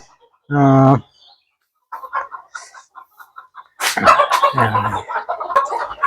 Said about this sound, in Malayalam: പേൻസി ഇത് സിൽക്കി കോഴി